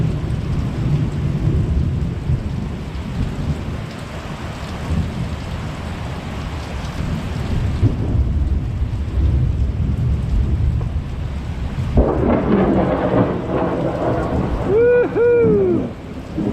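A thunderstorm at a house, with heavy rain pouring steadily and low rolling thunder rumbling throughout, loud and close, and a voice briefly heard near the end.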